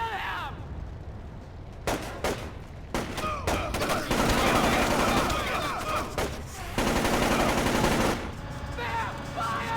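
Gunfire in the stealth action game Splinter Cell: Chaos Theory crackles in loud, rapid automatic bursts and overlapping shots, with brief gaps between volleys and some shouting in the mix.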